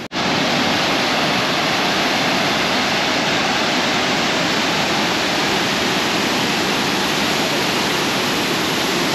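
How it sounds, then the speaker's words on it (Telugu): A steady, dense rush of a large waterfall's falling water roars continuously without letup, filling the whole clip with an even, close wash of sound. "ఆ వాటర్ ఇక్కడ పడుతున్నాయి, అదే ఇక్కడ వాటర్ ఫాల్"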